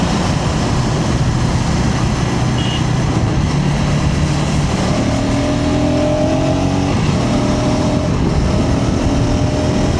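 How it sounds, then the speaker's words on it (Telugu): A KTM ADV 250 motorcycle engine pulling on a road ride above 3000 RPM, a loud continuous drone with rising revs and wind rush filling the whole stretch. "అబోవ్ 3000 RPM క్రాస్ అయిన వెంటనే మీకు ఇంజిన్ పుల్ అయితే బాగుంది"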